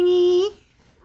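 An unhappy house cat gives a single sustained, tonal meow that holds steady and bends slightly before cutting off, close and fairly loud, with quiet room noise afterward.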